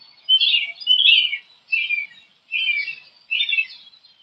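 A cardinal chirps in five clear, bright, high bursts spaced about half a second to a second apart, fairly close and alone against silence.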